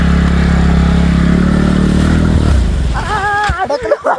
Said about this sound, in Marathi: आता इथून गाडी काढतो मी कशी बशी